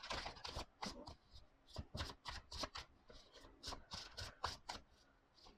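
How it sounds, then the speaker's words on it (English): A tarot deck being overhand shuffled, a quick series of soft papery riffs and slaps in close, quiet bursts, with no voices. "Like, overhand shuffles fine."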